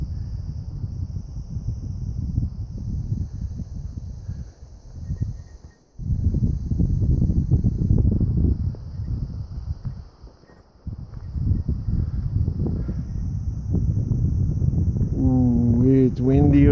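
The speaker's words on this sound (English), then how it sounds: "Ooh, it's windy over here." Wind buffets the top of Indian Creek Hill on a trail hike, loud gusty rumbling against the microphone that drops out briefly twice, with insects chirping faintly and a voice speaking near the end.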